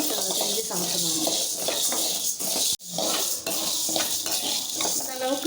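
Urad dal roasts dry and golden in a pan. Repeated scraping, rattling stirs and utensil clinks run close and fairly loud, with one brief pause, over a low hiss.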